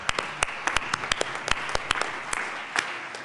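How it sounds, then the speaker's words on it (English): Legislators in the Colorado House chamber give a modest round of applause, scattered sharp individual claps over a softer background of clapping, fairly quiet and spread across a few seconds. "let's give them a round of applause"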